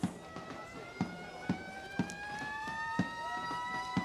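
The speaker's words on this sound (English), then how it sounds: "I'm guessing by that siren we have an American paddler coming down." A siren wails at the 2017 ICF Canoe Freestyle World Championships, sounding for an American paddler. Its tones slide upward while steady thumps land every half second, loud and continuous with no talk.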